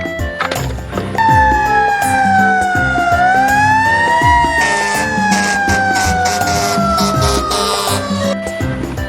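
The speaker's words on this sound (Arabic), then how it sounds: "فاير انجن شاحنة الإطفاء." A fire engine's siren wails loudly up and down in slow sweeping tones, rising and falling over about eight seconds above a busy rumble of traffic.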